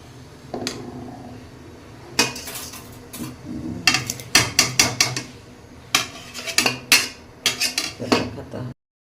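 Pulao rice goes on to cook in a pot of hot water, with a busy run of metallic clinks, clatters and knocks from utensils and cookware in close, irregular bursts, some coming in quick rhythmic strings.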